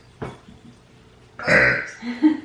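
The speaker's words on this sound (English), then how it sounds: "Did you just fart? It burped." A short throaty burp, close and fairly loud, followed by a brief grunting sound.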